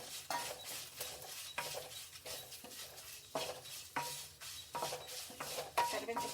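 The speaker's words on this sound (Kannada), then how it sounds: "ಕರಿಬೇವಿನ ಸೊಪ್ಪು ಹಾಕಿ ಅದ್ರ ಜೊತೆ ಫ್ರೈ ಮಾಡ್ಕೊಂಡು ಚೆನ್ನಾಗಿ ಫ್ರೈ ಆಗುತ್ತೆ" Curry leaves fry and get stirred in a pan while making bisibele bath powder, giving repeated scraping strokes of a utensil against the pan over a soft sizzle, steady and close with no talking.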